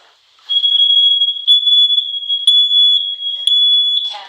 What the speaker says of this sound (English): This alarm can't be hushed.